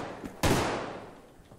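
A single sharp gunshot from the online shooter game Survarium cracks out with a short decaying tail, preceded and followed by faint distant game noise.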